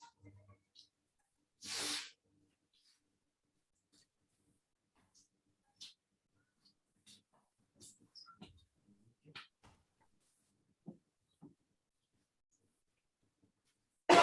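A single sneeze from a participant during an online aikido jo weapon class, sharp and fairly close, followed by quiet room sounds and faint scattered movement.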